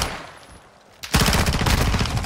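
Gunfire in a search and destroy video game round: after a quiet lull, a loud burst of rapid automatic shots rattles on steadily and close to the end.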